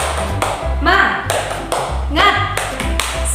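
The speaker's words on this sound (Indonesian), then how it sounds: "sebelumnya kita tepuk semangat dulu yuk" A class does a rhythmic 'tepuk semangat' cheer, with several bursts of group clapping in quick succession mixed with loud voices close by.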